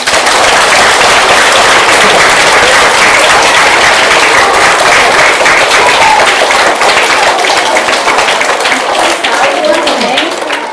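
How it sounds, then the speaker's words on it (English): A large audience at a Christmas gathering gives loud, sustained applause, a dense wash of many clapping hands lasting about ten seconds and tapering slightly near the end, with faint voices underneath. "Should we give them all a big clap?"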